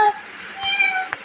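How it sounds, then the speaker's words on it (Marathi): A cat meows indoors in a home, a few short, fairly faint cries with a brief sharper one near the end, in a quiet room. "आवाज येतो मांजरीचा"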